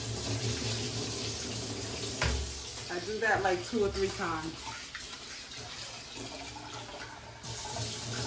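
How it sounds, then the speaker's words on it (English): Tap water runs and splashes as rice is rinsed in a sink before cooking yellow rice, a steady close wash of water with brief sloshing as the grains are stirred, while someone speaks over it. "You have to clean your rice just like you clean the meat, because you'll see by the color of the water that it needs to be clean."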